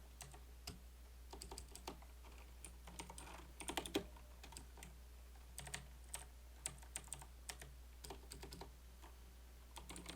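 Python code typed on a computer keyboard, irregular bursts of crisp key clicks with short pauses between runs, close and fairly quiet over a low steady hum, no talk.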